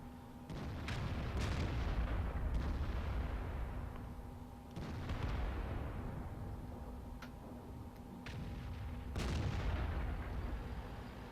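Tank cannon fire from the World of Tanks video game, with three heavy booming shots several seconds apart over a constant rumbling game backdrop, alone without talk.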